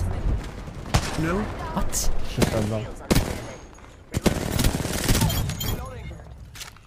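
Several sharp gunshots crack out in the Apex Legends video game, irregular single shots and short bursts mixed with game effects, while players talk excitedly over them.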